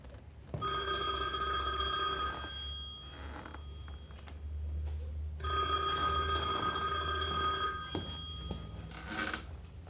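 An old-style telephone bell rings in two long bursts separated by a pause, moderately close, with faint room noise between the rings.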